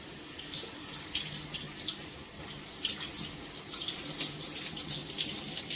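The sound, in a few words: running water wetting hair while detangling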